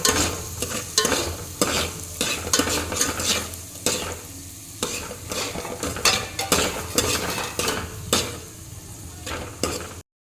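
Chopped onions being stirred in a pan for chicken curry: loud, repeated scraping strokes of a spoon against metal over a constant frying sizzle, close and rhythmic.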